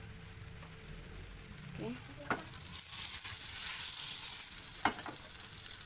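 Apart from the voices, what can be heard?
sautéing spices in margarine over low heat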